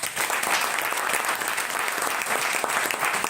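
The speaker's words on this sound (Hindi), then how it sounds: "इस लड़की के लिए जोरदार ताली बजाइए।" Loud, dense applause from a large audience at a motivational talk, sustained and even throughout the clip.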